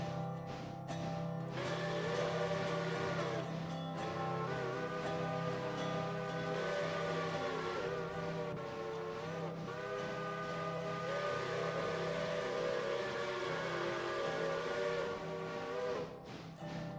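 Lunkenheimer steam locomotive whistle on a logging engine in the Railroader video game, sounding as one long, loud, chime-like blast held steadily for many seconds without talk.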